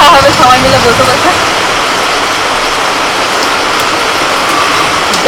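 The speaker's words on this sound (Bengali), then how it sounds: "বলতে বলতেই জোর বৃষ্টি এসে গেল।" Heavy rain pouring down outside a home kitchen, a loud, continuous broadband hiss of falling water that stays steady and close throughout.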